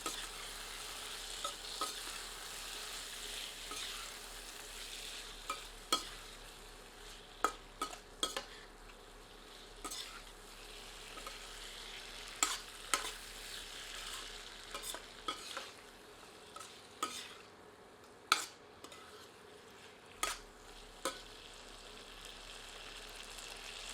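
A spoon stirs flat lima beans and potatoes in a pan, giving scattered sharp clinks and scrapes over a soft, steady sizzle, with no voices.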